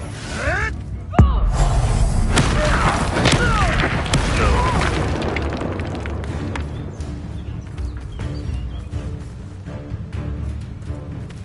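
Bombarda explosion spell cast in the Hogwarts Legacy video game, a sudden loud boom followed by crashing, shattering debris and lingering rumbling battle noise.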